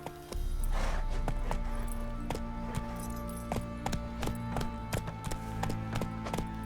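Hooves of the horse Roach gallop steadily and rhythmically in The Witcher 3, loud and close, with a faint clink of tack under a low, continuous background rumble.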